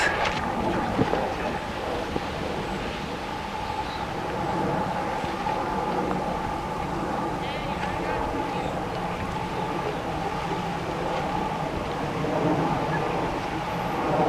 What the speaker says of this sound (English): I guess it's a bit windy now